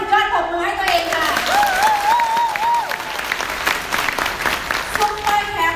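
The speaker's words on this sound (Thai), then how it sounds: "ปรบมือให้ตัวเองค่ะ" A seminar audience claps, the applause continuing steadily while someone speaks over an amplified sound system at the start and again at the end.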